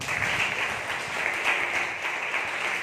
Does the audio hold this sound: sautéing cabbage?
no